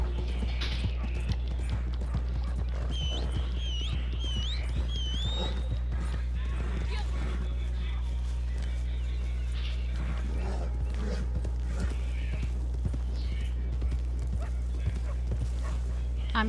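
Horses' hooves clip-clopping at a steady running pace in the video game Red Dead Redemption 2, with a horse whinnying briefly and people talking over the hoofbeats.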